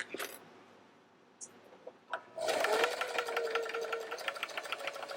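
A sewing machine back stitches a wristlet keychain, starting with a few short clicks and bursts, then running in a loud, steady whirring stretch that lasts to the end.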